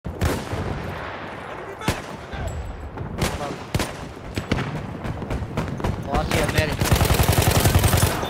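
Battlefield 1 gunfire: close, loud rifle shots and bursts of machine-gun fire crack repeatedly, building into sustained rapid automatic fire near the end, with voices calling out over the battle.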